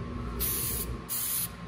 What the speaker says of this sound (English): Got a good spray out of there?